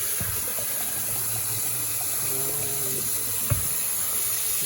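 Water runs steadily from a tap while New Zealand spinach and scurvy weed are washed, a continuous rushing flow with a few small splashes and one brief knock.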